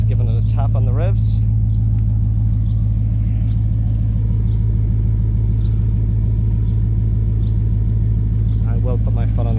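A 2004 HSV Clubsport R8 with manual gearbox idles with a steady low burble and constant rumble throughout, the auxiliary fan faintly audible, while a person talks briefly at the start and end.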